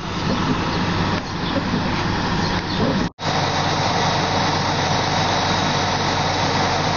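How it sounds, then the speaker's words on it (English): A bus engine idles with a steady low rumble and drone, close by and continuous, cutting out briefly once before resuming. "That noise is just this bus."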